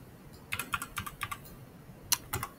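Quiet keystrokes tap on a computer keyboard in two short bursts, several quick clicks close by, then a couple more after a pause.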